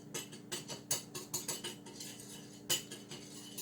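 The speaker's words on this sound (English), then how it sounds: "I'm just going to whisk these all together quickly" Garlic powder and onion powder seasonings being whisked together in a bowl, a quick series of light, close metallic ticks and clinks with a faint steady hum behind.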